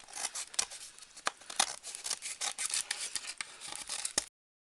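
Excess material is trimmed away while making an imitation cutting board, with quiet, close snips and rubbing scrapes in a quick uneven rhythm for about four seconds before silence.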